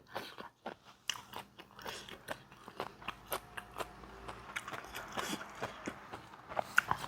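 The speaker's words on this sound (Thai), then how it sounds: "รอบนี้เดี๋ยวมันจะกินผักให้หมดถาดให้ดู" Boiled vegetables are chewed close up in a steady run of soft crunchy bites and wet mastication, fairly quiet and with no talking.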